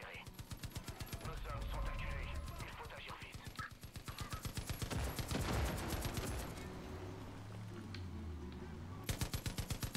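Rapid automatic gunfire in the co-op shooter game Far Cry 5, a long steady stream of evenly spaced shots fired continuously at close range, with brief pauses and a player talking over it.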